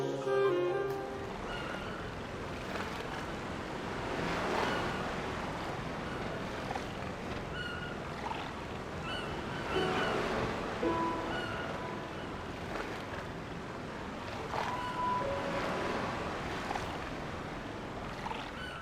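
Continuous wash of waves rolling onto a shore in The Legend of Zelda: Tears of the Kingdom, with a breezy hiss, calm and steady, with a few faint bird chirps far off.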